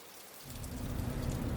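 Heavy rain in 40 mph wind during a duck hunt swells in after a quiet moment into a dense, steady hiss of drops, faint and brief.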